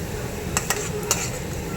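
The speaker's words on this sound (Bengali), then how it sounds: "আলুটাকে ভাজা বসিয়েছি নুন হলুদ দিয়ে লাল লাল ভাজা হবে" Potatoes fry in a pan with salt and turmeric, making a constant soft sizzle broken by a few sharp clinks of a utensil against the pan.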